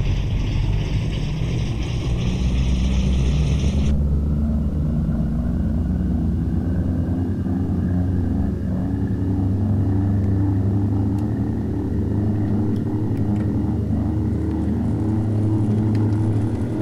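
Douglas aircraft engines run at full thrust in the FlightGear flight simulator, a loud, steady droning rumble with a slowly rising whine; a higher tone cuts off a few seconds in.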